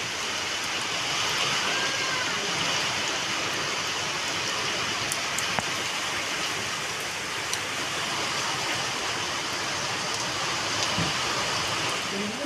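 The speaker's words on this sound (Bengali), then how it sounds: "দেখো পুকুরের মধ্যে বৃষ্টির জলটা পড়ছে, কি দারুণ লাগছে। খুব জোর বৃষ্টি হচ্ছে, দেখেছো?" Heavy rain pouring into a pond, a dense, steady hiss of falling water that fills the whole stretch without pause, heard close and fairly loud.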